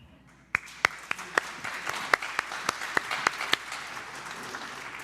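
Scattered applause from a church congregation at a Sunday service, sharp individual claps popping out at irregular intervals over a soft, building patter of hands.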